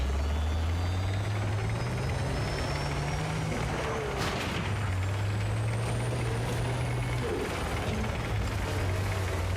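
A helicopter in the video game Battlefield 6 drones steadily with a deep rotor hum and engine whine, loud and continuous throughout, with brief mechanical clanks and faint voice traces mixed in.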